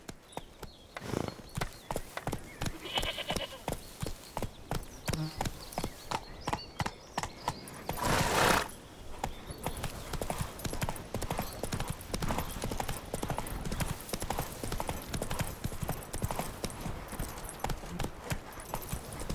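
Horse hooves clip-clopping in The Witcher 3, a fast, close, even rhythm of hoofbeats continuing throughout, briefly joined by a louder burst of noise near the middle.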